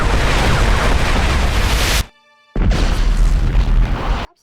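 A loud, roaring airstrike explosion in the video game Homefront rumbles for about two seconds, cuts to near silence, then a second heavy blast roars on before ending abruptly.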